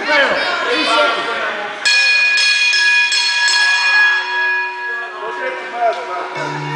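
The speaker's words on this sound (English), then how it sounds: "Ring the bell" A wrestling ring bell rung at a live North Georgia wrestling show, a bright metallic ringing tone that sustains and decays over several seconds after a stretch of shouting voices.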